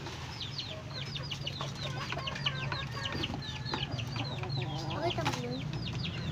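Pet chickens cluck and chatter in a yard, many short overlapping calls in a busy, steady stream, with a person speaking briefly among them.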